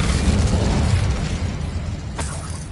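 The Incendio fire spell cast in Hogwarts Legacy: a loud, roaring whoosh of flame with crackling and a rumbling low end, fading slightly, then a short sharp burst near the end.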